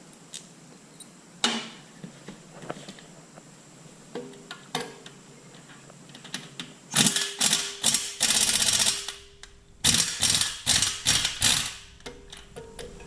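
A large bolt on a Kubota L3400 tractor being worked loose by hand, giving scattered metallic clicks and ratchet-like ticks, then dense bursts of rapid ratcheting close by, with no talking.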